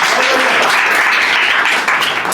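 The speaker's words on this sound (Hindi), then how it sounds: "बड़ी तालियां हो जाए दोस्तों।" Dense, loud applause from an audience at a mushaira poetry gathering, continuous and close for a couple of seconds, with voices blended into the clapping.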